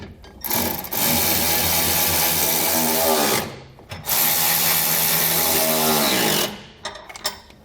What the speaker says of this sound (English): We can then go back and snug those down using a 6mm Allen key.